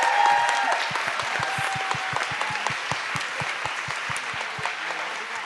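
Audience applause for Carolina, the editor, at a book festival author panel, with sustained dense clapping from a sizeable crowd, steady and fairly loud, tapering slightly near the end.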